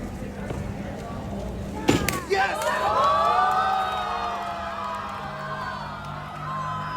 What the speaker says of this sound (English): he has to calm down the crowd like, oh, stop guys! Because everyone's going bonkers